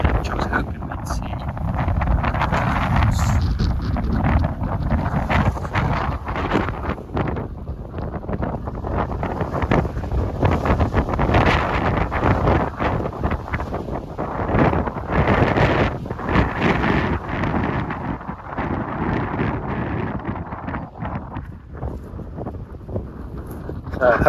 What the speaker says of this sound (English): And it's blowing a gale, right?